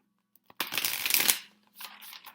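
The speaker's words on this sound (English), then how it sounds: "Okay, I'm shuffling this deck really, really well." A deck of cards riffle-shuffled once in a quick rustling burst, followed by a softer second riffle, close up.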